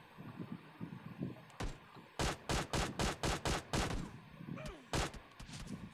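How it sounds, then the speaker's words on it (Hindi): Gunfire in a mobile battle royale shooter: one early shot, then a rapid run of about eight loud, evenly spaced bursts, a short pause, and a final shot, with faint in-game background noise between them. "यहाँ पे मेरे को फिर से किसी ने शॉट देने की कोशिश की"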